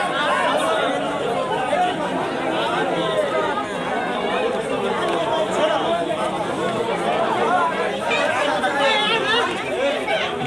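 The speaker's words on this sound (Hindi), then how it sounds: "बहुत भीड़ है।" Dense chatter of a large crowd, many voices overlapping steadily and close by with no pauses throughout.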